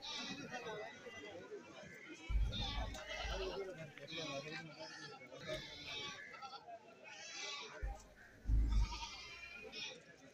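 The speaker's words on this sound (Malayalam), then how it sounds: "എല്ലാം കച്ചവടം കഴിഞ്ഞ ആടുകളാണ് ഈ ഭാഗത്ത് നിൽക്കുന്നത്." Goats at a Kerala goat market, with several bleats near and far over a busy crowd murmur and people talking throughout, plus a couple of low thumps.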